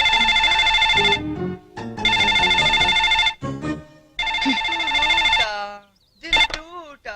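In a Telugu film scene, a telephone rings in three loud bursts of bright electronic tone separated by short pauses, and voices speak between the rings.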